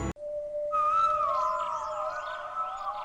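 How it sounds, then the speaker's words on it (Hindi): A thin, eerie whistled tune drifts in long gliding notes over a steady tone, faint and seemingly distant, with no voices. "सिर्फ उसके कदमों की आवाज और दूर से आती एक अजीब सी सीटी सुनाई दे रही थी"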